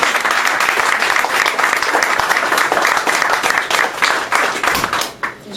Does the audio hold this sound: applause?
yes